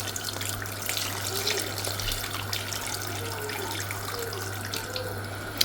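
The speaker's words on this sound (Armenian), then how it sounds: "Մի քիչ է սովորական ջուր, որ շատ յուղոտ թունդ չլինի։" Plain water pours in a steady, close splashing stream into a pot of stew with meat and broth, continuous and even for several seconds under a faint low hum, with no voices.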